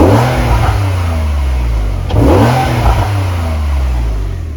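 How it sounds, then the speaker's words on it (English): A warmed-up Porsche sports car engine revs up twice in strong, throaty bursts, close and loud, settling back between them. "Rev the engine a little bit, it's been warmed up."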